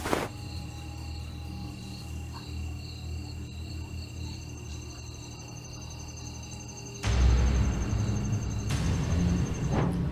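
Crickets chirp in the woods at night with a steady, high, layered trill from several insects, joined by a louder broadband rustle partway through.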